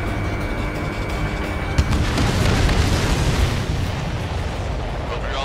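A supply ship blowing up in the Ace Combat 7 video game: a loud rumbling explosion swells after a sharp burst, with debris crackle and low booms rolling on, under game radio chatter.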